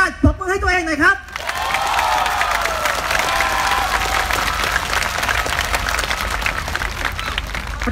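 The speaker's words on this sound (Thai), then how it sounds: "ปรบมือให้ตัวเองหน่อยครับ" A crowd at a Thai political protest rally breaks into loud, sustained clapping and cheering with scattered whoops. It starts right after a brief bit of amplified speech and keeps a steady, dense roar to the end.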